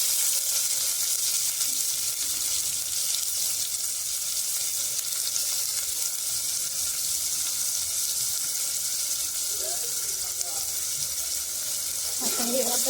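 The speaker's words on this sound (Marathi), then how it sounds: "आता हे आपण चांगलं तेलामध्ये ना फ्राय करून घेऊया" Chopped tomatoes frying in oil with onions already browned, a steady close sizzle that continues without a break, with faint stirring clatter near the end.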